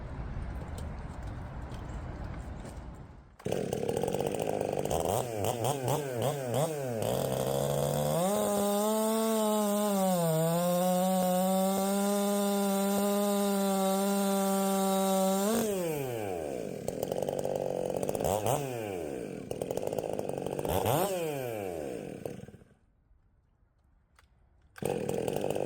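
A ported Stihl MS400 chainsaw cuts wood: the engine revs up hard, then holds a loud, sustained high-pitched whine through the cut, drops back toward idle with sputtering revs and blips, and finally cuts out before the end.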